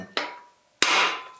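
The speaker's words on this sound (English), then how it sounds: "take your lightweight little hammer, beat on it once, see what happens" A light hammer strikes a part on a John Deere 755 tractor twice, each sharp metallic tap close and loud and followed by a short ringing decay.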